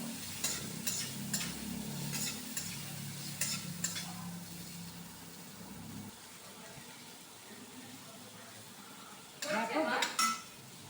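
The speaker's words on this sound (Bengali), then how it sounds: "দিয়ে বেগুনটা আমি এই তেলে ভেজে নিই।" Eggplant slices coated in salt and turmeric frying in hot oil in a pan, a steady close sizzle with scattered clinks of utensils, a louder burst of spattering near the end.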